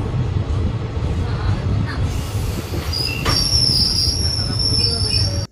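A train engine rolls along the tracks near Rangapara with a steady low rumble, and high wheel squeal rises and holds through the latter half, loud and close.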